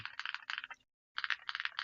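Rapid typing clatters on a Nuphy Halo65 HE magnetic keyboard, close and crisp, in two quick bursts split by a short silent pause.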